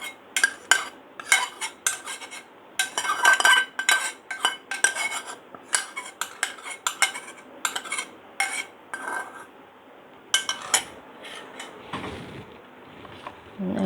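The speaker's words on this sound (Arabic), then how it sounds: "نقلب كويس." A spoon stirs melted ghee in a metal pot, making repeated close clinks and scrapes in uneven bursts with short pauses between, ending in quieter rustling. No one speaks.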